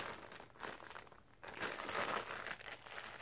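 Close crinkling and rustling of a plastic bag being handled, in irregular bursts with a brief pause in the middle.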